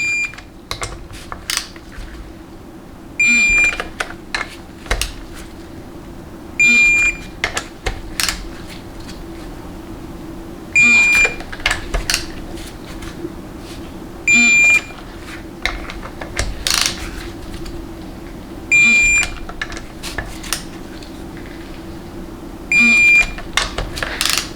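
Electronic torque wrench tightening bolts on a 2017-or-later Ford 6R140 transmission valve body, giving a series of sharp beeps about every three to four seconds, each burst repeating over a quiet background of small clicks.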